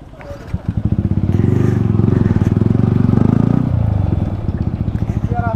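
A Yamaha MT-15 motorcycle with a loud aftermarket exhaust rumbles close by, swelling into a sustained, pulsing engine roar for a few seconds before easing back, with voices heard around it.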